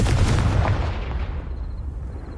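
Confringo fire spell blast from Hogwarts Legacy on PS5, a loud, dense explosive burst that rolls with a deep rumble and slowly fades over a couple of seconds, with no talk.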